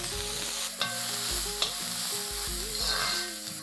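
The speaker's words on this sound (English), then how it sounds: "I'm going to saute this for about 3 to 4 minutes till they become nice and soft." Onions sauté in a pan for a dhaba-style chicken curry, giving a close, steady sizzle with a spatula stirring and scraping throughout and a couple of light clinks.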